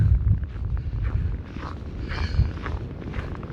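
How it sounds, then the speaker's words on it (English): Wind gusts and buffets the microphone during a winter blizzard with high winds, snow and dangerous cold, a rough, roaring rush that swells and eases with no voices. "Every once in a while we'll get a gust of wind"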